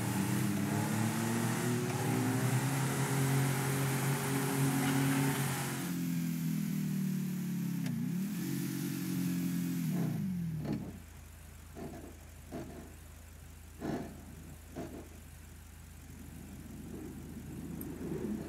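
A Swift car in GTA V speeding up for a jump, the engine revving loud and climbing, then dropping off sharply into quieter scattered thuds and a low steady hum as it lands.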